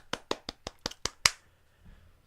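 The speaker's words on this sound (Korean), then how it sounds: "박수." Seven sharp hand claps in a quick, even run, close and fairly loud, ending on a slightly stronger clap, then near silence.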